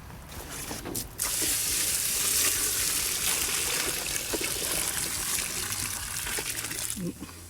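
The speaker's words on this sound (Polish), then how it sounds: "Chyba trzeba dolać trochę wody." Water pours steadily onto shredded paper and sawdust mixed for making briquettes, a close, continuous rushing splash that starts suddenly and runs for several seconds before easing off.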